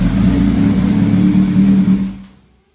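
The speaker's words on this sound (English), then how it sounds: "And we got the H2 here in the dyno." A stock Kawasaki H2 motorcycle engine revs hard on a dyno, a loud sustained mid-pitched roar that holds steady for about two seconds and then cuts off abruptly, leaving silence.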